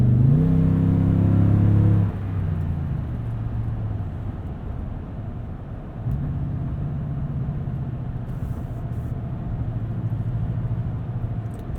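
Toyota Tundra TRD Pro pickup engine, a strong rev for about two seconds that drops to a steady low rumble, then swells into a second sustained drone, heard alone without talk.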